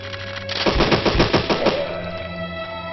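Rapid automatic gunfire from shooting zombies in the video game Deadly 30, a loud burst of about a dozen quick shots lasting a second or so over a steady game hum.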